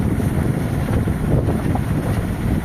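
Strong wind buffeting a sailboat at sea, gusts of 24 to 25 knots rushing loudly and continuously across the microphone with a low churning rumble of boat and water beneath.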